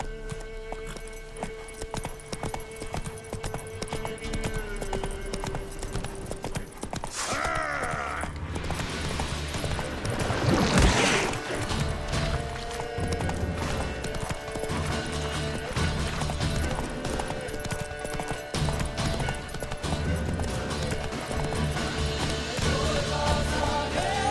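Rhythmic hoofbeats of a horse clip-clopping steadily in The Witcher 3, with occasional clattering impacts and a background hum.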